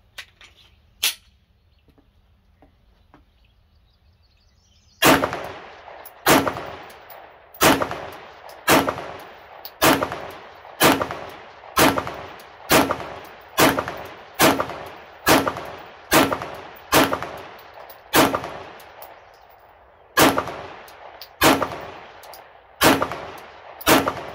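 Glock pistol fired at a shooting range, about twenty sharp, loud reports spaced roughly a second apart in a steady cadence, each ringing out briefly, with a short pause before the last few shots.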